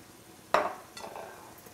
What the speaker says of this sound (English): So we're just going to give a little swirl of vermouth